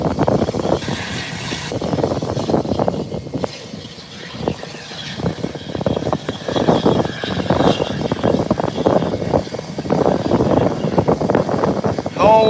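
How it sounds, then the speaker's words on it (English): A Beechcraft 1900 turboprop takes off at an airport, a continuous engine roar heard from a distance that holds steady throughout, with outdoor background noise. "And there you have the Beechcraft 1900 up and away."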